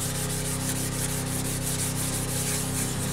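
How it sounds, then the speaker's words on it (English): Wet sanding of an aluminum wheel with 1500-grit wet/dry sandpaper on a block: a close, steady, rhythmic rubbing scrape repeating in quick even strokes, with no voices. "I'm going to put it in my block and get it wet and start sanding."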